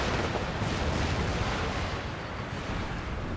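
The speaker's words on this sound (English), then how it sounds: "And here comes our artillery barrage." An artillery barrage in an American Civil War strategy video game, heard as a dense, continuous roar of overlapping cannon blasts and rumbling explosions that holds steady and loud throughout, with no speech.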